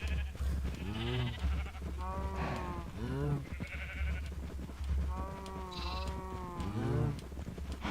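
Sheep in a video game bleat again and again, a string of wavering cries spread across the stretch over a steady low background hum, with no talking.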